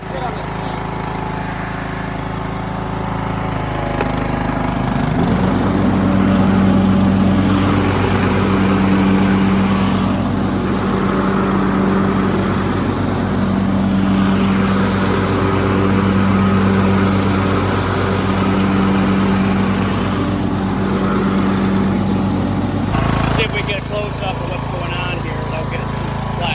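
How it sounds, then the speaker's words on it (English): A Craftsman T2400 garden tractor engine runs steadily at close range, a loud, even mechanical drone with a humming tone, shifting briefly near the end. "Tractor running over there."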